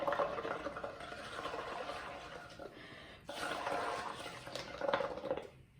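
Bubbles blown through a straw into a cup of liquid, a steady gurgling, bubbling burble that runs continuously at close range, pausing briefly near the middle before resuming, with no talk over it.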